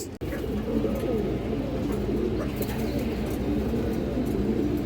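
Pigeons coo continuously in a loft housing red Dobaj and Giribaz fancy pigeons, with low rolling calls overlapping close to the microphone over a constant background murmur of the flock.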